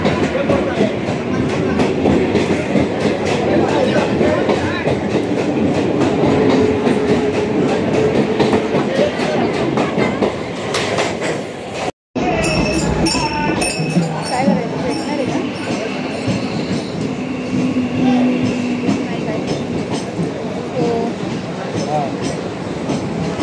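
A crowded 12-car Mumbai fast local train runs along the rails with steady rumbling and clickety-clack wheel noise, briefly cut by a short gap, while station announcements and voices carry over the din.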